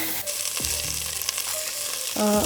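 Crushed garlic and onion sizzle steadily in a pan while a black-eyed bean curry is cooked Indian style. A few faint utensil clinks from stirring sit over the constant frying hiss, with no talk.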